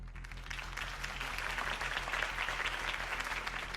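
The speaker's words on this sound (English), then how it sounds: "If only Mr. Wayne, my campaign's largest backer, could have heard that applause" A crowd in Batman: The Telltale Series breaks into steady, dense applause after a campaign speech for Harvey Dent, sustained clapping filling the scene over a faint low hum.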